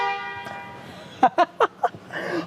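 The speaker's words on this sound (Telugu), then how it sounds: "horn is still functioning" A vintage Rolls-Royce Shadow's horn gives four short honks in quick succession after a sustained ringing tone, with a faint rumble beneath.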